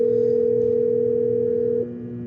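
A steady, loud telephone tone sounds as the voicemail system is opened, holding evenly for nearly two seconds before dropping slightly in level near the end, with no talking.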